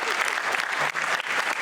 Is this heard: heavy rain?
no